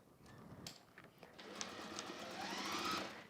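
A sewing machine stitches across the boxed bottom corner of a foot-long flexi-frame fabric pouch, its motor whirring steadily with a faint rhythmic needle patter. It sounds quiet and close and swells slightly toward the end, with no voices.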